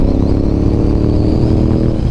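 Honda RC51 sport motorcycle engine running close by, a loud, steady, deep V-twin idle with a rough pulsing burble that continues without break.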